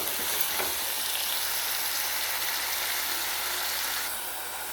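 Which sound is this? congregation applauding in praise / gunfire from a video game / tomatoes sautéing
tomatoes sautéing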